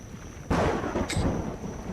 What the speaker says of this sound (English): I wish that storm would stop.